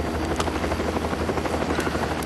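A helicopter in flight produces a loud, steady rotor and engine roar that fills the whole stretch with dense, continuous noise and no talking.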